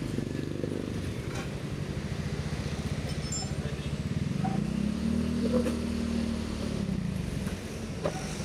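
A motorcycle fitted with an aftermarket kal-kal (chicken pipe) exhaust idles with a throaty exhaust rumble, then revs up briefly and settles back down, close by.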